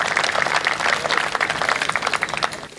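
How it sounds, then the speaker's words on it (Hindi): Audience applause at a Hindi poetry recital (kavi sammelan): dense, steady clapping from a sizeable crowd, moderately loud and close, with no voices over it for about three seconds. "एक बार आप तालियां बजा दीजिए"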